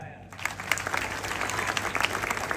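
Sustained crowd applause at an outdoor Maharashtra wrestling ground during a bout between two wrestlers named Prithviraj, steady and dense clapping throughout with a few louder claps poking through.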